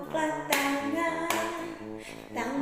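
Hands clap along to a children's Sunday school action song, with sharp broadband claps landing at regular beats over the sung melody.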